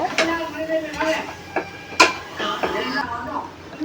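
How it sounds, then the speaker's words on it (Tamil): Sautéed vegetables for a village-style cauliflower biryani are stirred in a pot, giving close spoon scrapes and metallic knocks at an irregular rhythm over a faint sizzle. "எல்லாத்தையும் சேர்த்து கிளறி விட்டுக்கோங்க."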